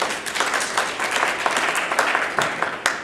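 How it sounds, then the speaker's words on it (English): An audience at a school gathering claps steadily for a few seconds, a dense even patter of applause with a few sharper individual claps standing out. "So applause."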